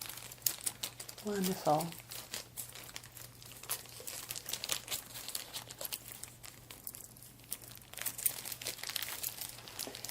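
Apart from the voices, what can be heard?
crinkling plastic baggie being handled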